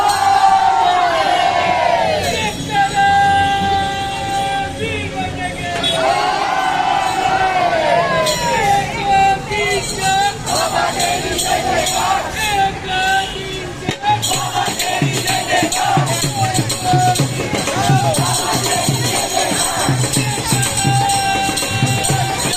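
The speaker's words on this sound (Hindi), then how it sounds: "लोगों की इतनी भीड़ देख रहे हैं, इतना हुजूम देख रहे हैं" A large crowd of pilgrims at the Kavad Yatra procession in Jaipur, Rajasthan, a loud, dense festival din of massed voices, chanting and cheers with music-like tones running throughout.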